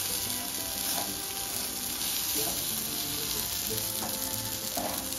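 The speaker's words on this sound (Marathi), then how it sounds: "मग त्यात गरम तव्यावर ठेवून देते." River fish crisp on a hot iron griddle with the gas turned off, giving a steady, close frying sizzle with faint crackles throughout and no talking.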